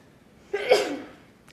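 A single sneeze bursts out sharply, then trails off into a breathy exhale; fairly close and moderately loud, with no talking.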